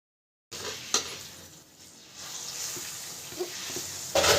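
Vada frying in hot oil for a big Amavasai festival meal, a steady soft sizzle with occasional clinks of a pan or utensil, fairly close and without talk.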